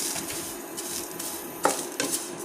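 Lachha semai vermicelli frying slowly in a pan on an induction cooker over medium-low heat, with a faint steady crackle broken by a few sharp clinks and scrapes of a utensil against the pan, no voices.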